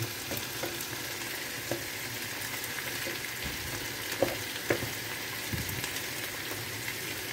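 Rice pilaf being stirred in a granite pan, a steady soft sizzle with scraping spoon strokes and a few light knocks against the pan.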